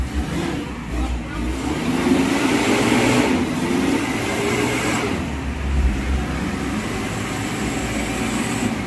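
Engine of a 20-year-old Isuzu Trooper with 46k mileage, just revived, running steadily with a low rumbling idle that rises into a couple of revs, close and continuous throughout.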